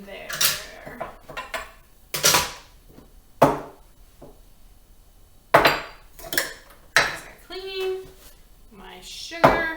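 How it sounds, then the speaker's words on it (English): Dirty dishes and utensils clatter into a bowl while baking cookies, a string of sharp clanks and knocks at close range under ongoing talk. "I'm just putting all of my my dirty dishes into the bowl so they're all"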